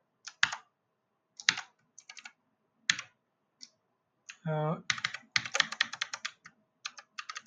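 Fast bursts of keys on a computer keyboard as code is typed, with short clattering runs separated by pauses and a denser flurry in the second half, recorded close. A brief voiced sound interrupts midway.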